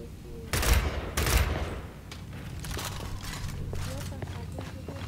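Two bursts of rapid gunfire from the video game Gears of War 5, followed by scattered softer shots and effects under ongoing chatter.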